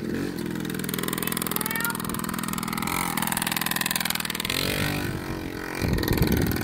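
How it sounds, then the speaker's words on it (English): A small dirt bike engine idles and revs steadily up close, a continuous buzzing drone with a shift in pitch near the end. "Little goofball's too big for a little dirt bike, but he still rides it."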